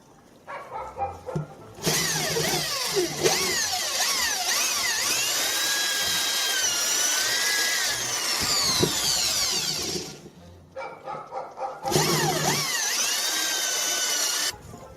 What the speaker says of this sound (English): drill a hole in the pipe.